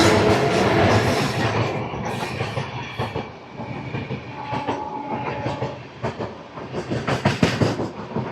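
The Devagiri Express, running from Mumbai to Lingampally, passes close by with a loud rumbling roar and rhythmic clickety-clack of wheels over rail joints, easing slightly midway and then swelling again as more coaches go by.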